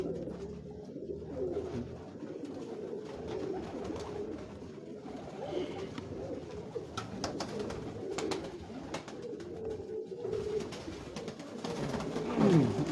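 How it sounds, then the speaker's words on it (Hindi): Pigeons coo repeatedly in soft, throaty rumbles, with light rustling and a few fluttery movements nearby. "ये आ गया जी दूसरा कबूतर"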